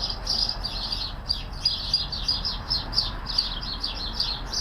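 Birds fighting behind a deserted warehouse give a continuous stream of sharp, excited high chirps and tweets, busy and fairly close, with low outdoor rumble beneath and no talking.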